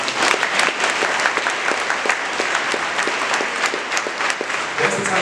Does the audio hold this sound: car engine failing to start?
no